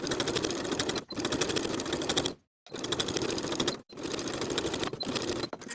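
A home sewing machine edge stitches seam allowances on a boat neck sweater, running in four close, rapid bursts separated by short pauses, one of them longer.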